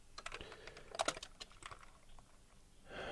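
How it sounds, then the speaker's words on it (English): Typing on a computer keyboard while writing code, a quick irregular run of close, crisp key clicks with a few louder strikes near the middle, quiet overall and with no talking. "I'm lazy, so I'm just typing that."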